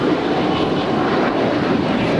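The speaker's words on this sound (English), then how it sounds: "The Qantas A330 now makes that left-hand turn onto taxiway Bravo, and we'll head for a departure on 25 right." A Qantas Airbus A330 taxis at Los Angeles International Airport, its engines giving a loud, steady, close roar that holds without a break throughout.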